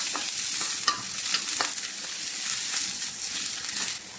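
Long green chili and red onion sautéing in a pan, a steady hiss of frying punctuated by several sharp scraping stirs of the utensil, close and fairly soft.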